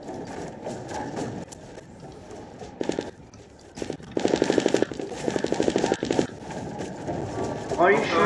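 Rapid automatic gunfire in a zombie video game match, coming in short bursts that grow louder midway, mixed with game noise while players talk over it.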